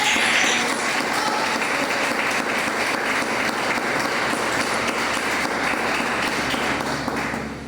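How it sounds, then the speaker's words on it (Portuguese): Church congregation applauding during a Pentecostal-style sermon, a dense, loud wash of many hands clapping continuously from start to finish, with no voice over it. "Aplauda aí a Jesus."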